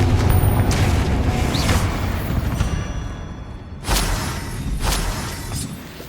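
Confringo blasting spells go off in the Hogwarts Legacy video game as repeated booming explosions with crackling, shattering debris, two sharp blasts standing out among a continuous rumble.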